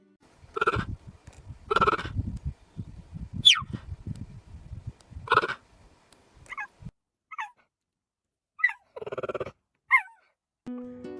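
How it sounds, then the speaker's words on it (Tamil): A cheetah calls with a series of short, high chirping yelps and a few rougher meow-like cries, spaced irregularly with quiet gaps between. "ஃபர்ஸ்ட் சீத்தா. அதோட சவுண்ட் இப்படி தான் இருக்கும்."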